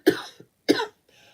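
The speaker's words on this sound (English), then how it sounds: "I have this weird cough though." A woman coughs twice in quick succession, close and fairly quiet, each a short harsh burst, followed by a faint breathy throat sound.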